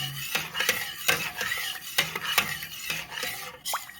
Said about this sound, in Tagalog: Para hindi magbuo-buo, haluin nyo.